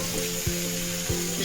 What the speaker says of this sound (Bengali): গাছের ফুলকপিটা বসিয়েছি, ভেজে খিচুড়ির মধ্যে দেওয়া হবে